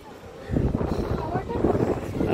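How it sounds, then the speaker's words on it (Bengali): Strong sea wind buffets the microphone at a beach in Puri, a dense, rumbling roar that gusts up and stays loud, with a voice talking over it. "আর হাওয়াটা অসাধারণ"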